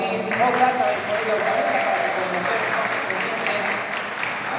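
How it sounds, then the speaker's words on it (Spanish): Spectators at a school obstacle race in the Copa CAI 2022 give a steady burst of applause, a continuous wash of clapping with crowd noise running throughout. "le damos el fuerte aplauso al team O-Data del colegio"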